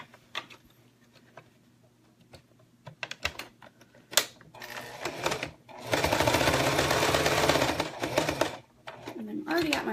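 A sewing machine stitches over an existing seam while a zipper is sewn in, with scattered clicks and handling taps first, then a few seconds of fast steady stitching and a short final burst, a voice talking at times.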